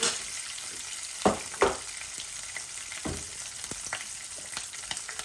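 Eggplant and sweet potato pieces fry in a pan with a steady close sizzle, broken by a few louder crackling spits and light clatters, and no one speaks.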